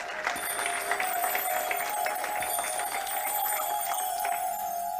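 An audience claps to welcome a speaker, giving sustained, moderately loud applause from a crowd with a bright ringing tone running underneath.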